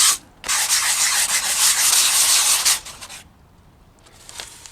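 Sandpaper rubbed in circular motions over a rough, porous surface of a model railroad accessory, a steady loud scratchy hiss lasting under three seconds, then quiet with faint brushing.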